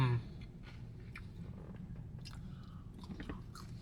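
In-N-Out fries being chewed close to the mic, soft wet crunches and mouth sounds repeating irregularly, with a brief low thump at the start and no talking.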